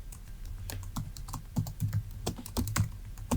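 Text is typed on a computer keyboard in quick, uneven bursts of sharp, close clicks and thuds, with brief pauses between runs of keystrokes.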